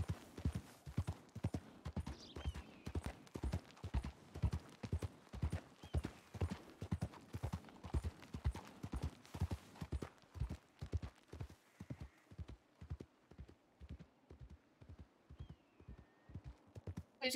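Rapid, regular clip-clop of horse hooves trotting steadily in a video game for the whole stretch, clear and fairly close, slowing and softening toward the end.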